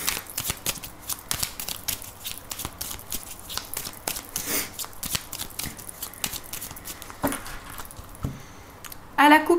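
Oracle cards being shuffled and cut by hand, a series of quick papery riffles and slaps in bursts close up, with a brief pause near the end before a final flurry.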